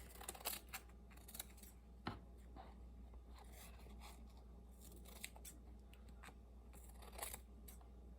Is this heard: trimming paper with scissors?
yes